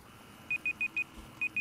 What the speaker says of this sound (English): Oh, my timer again went off and I keep getting it confused.